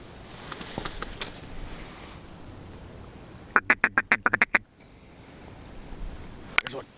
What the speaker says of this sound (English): There's some ducks out in the middle there.